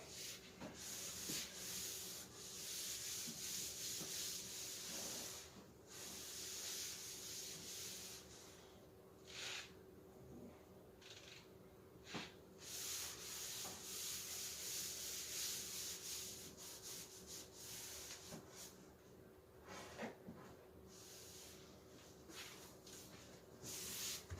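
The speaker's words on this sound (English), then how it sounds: "But you just keep sanding it and oiling it" Steady rhythmic sanding on a wooden butcher block countertop, the abrasive scratch sweeping back and forth in repeated strokes, close and fairly quiet with no talking.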